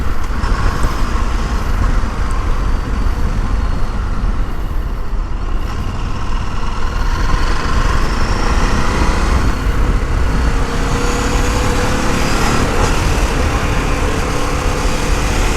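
A 2022 Ducati Desert X motorcycle engine runs steadily while riding, a close, continuous roar blended with wind and road noise, with no talking.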